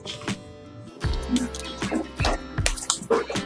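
Boiled potato being mashed by hand for malai paneer kofta, with soft wet squishing and squelching pulses repeating at close range, irregularly, over quiet background.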